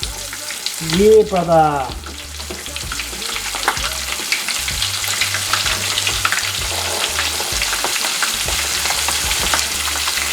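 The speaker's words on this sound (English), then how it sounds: "Oh, I love it when it fries up." Prawn heads fry in hot oil with a steady, dense sizzle and crackle that runs through the whole stretch, while someone briefly speaks over it near the start.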